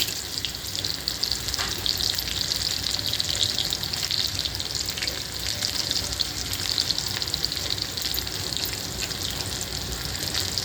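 Onion frying in hot oil with cumin and mustard seeds for a mung bean dish, giving a continuous bright hissing sizzle that stays even and close, with no one speaking.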